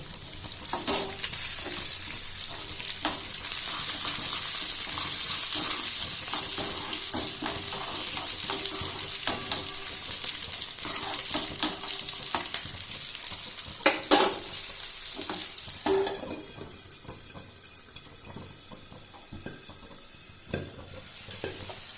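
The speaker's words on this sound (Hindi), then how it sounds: "तो ये थोड़े फ्राई हो जाएंगे। फिर मैं इसमें डालती हूँ गाजर" Carrots, peas and tomatoes fry in a pan for a potato and capsicum sabzi, sizzling steadily with frequent stirring scrapes and clinks, softening toward the end.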